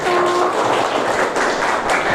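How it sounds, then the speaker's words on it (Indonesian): A classroom of students claps for a presenting group, a short, loud burst of mixed hand claps that fades slightly toward the end, with a few voices briefly audible at the start. "Tepuk tangan untuk kelompok 1."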